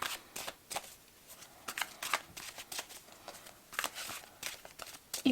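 A Spirit Song Tarot card deck being shuffled by hand, quiet repeated riffling bursts and soft card slaps in an irregular rhythm, close by with no talking.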